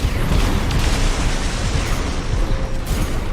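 Laser cannon fire from a mech in Armored Core 6 makes dense, booming bursts that run together into a loud, continuous rumble with crackling pops and no pauses.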